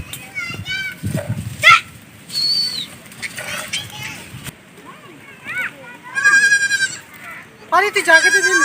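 Goats bleat loudly and repeatedly near the microphone while being milked in a village, with harsh wavering cries among children's and adults' chatter.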